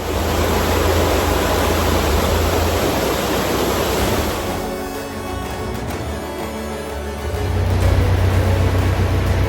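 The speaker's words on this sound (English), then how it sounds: "it means that the water floods in when you try to empty each one" Water rushes loudly and steadily as a narrowboat canal lock empties, a broad churning roar with a brief dip midway before it surges fuller again.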